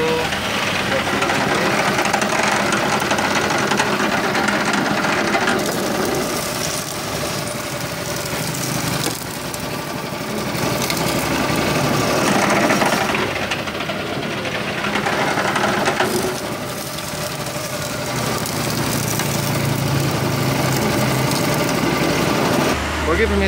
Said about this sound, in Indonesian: Sekali giling atau sekali peras dengan menggunakan alat ini sudah kering.